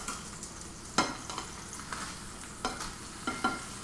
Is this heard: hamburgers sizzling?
yes